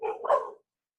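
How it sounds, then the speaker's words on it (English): A dog barks twice in quick succession, fairly close and loud, a short burst heard outdoors during a casual beer-tasting chat, with no talk over it. "Is that your dogs?"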